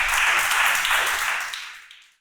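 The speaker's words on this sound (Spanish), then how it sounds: "Aplauda al que vive." A church congregation claps and applauds together in a broad, steady burst that tapers off over about two seconds.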